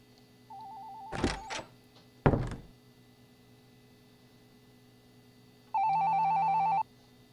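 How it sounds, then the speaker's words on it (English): A cell phone rings in the point-and-click game Shadows on the Vatican. A warbling electronic tone sounds once, two sharp thumps follow, and then a second buzzing ring plays for about a second over a quiet background hum. "Your cell phone is ringing, and you must answer"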